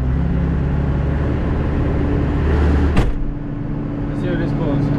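A Massey Ferguson MF 3690 tractor engine runs loud and steady while pulling a six-furrow plough, its heavy low drone holding through the field work with a sharp knock partway.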